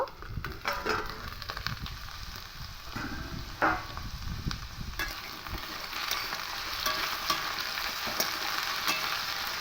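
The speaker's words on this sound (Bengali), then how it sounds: "একটু হালকা লাল করে করে ভেজে নেব" Vegetables pan-frying until lightly browned: a close, steady sizzle with frequent stirring scrapes and clatters against the pan, no voices.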